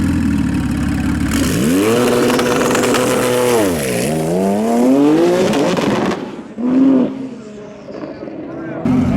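Cars launch at a quarter-mile drag racing qualifying event, engines revving and pitching up hard as they pull away loud and near, followed by another roaring pass, with a voice talking over the engines.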